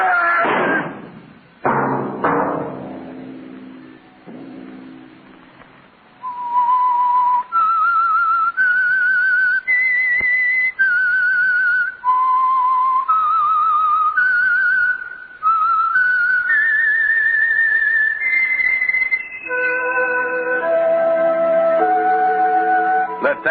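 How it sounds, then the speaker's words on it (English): A lone melodic whistle from an old-time radio mystery program, a sustained tune of clear stepped notes that rises and falls for most of the clip, preceded by a few thumps and brief orchestral sound. "Let that whistle be your signal for the Signal Oil program, The Whistler"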